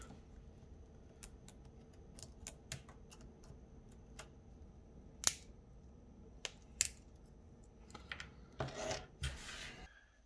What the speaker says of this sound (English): Cut out the supports where I can.